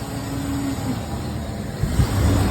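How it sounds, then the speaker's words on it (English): The condenser fan of a walk-in cooler runs while its compressor stays off, a steady close mechanical drone with a low rumble that swells slightly near the end. "Sounds like we have a condenser fan and no compressor."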